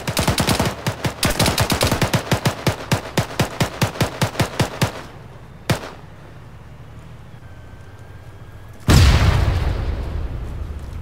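Covering fire in a military video game: a long, loud, rapid run of gunshots in fast rhythmic bursts, a lone shot after a pause, then a heavy booming blast with a rumbling tail.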